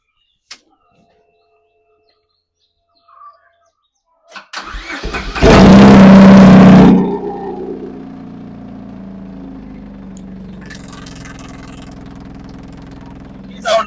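A Tata Nano rebuilt as a Lamborghini replica with a centre-exit exhaust cranks over and fires up with a loud surge of revs, then drops to a steady idle, with a few faint knocks beforehand.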